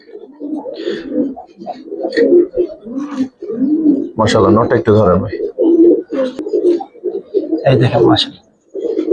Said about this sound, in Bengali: এই দুইটা কবুতর দেখেন মাশাআল্লাহ, খুব সুন্দর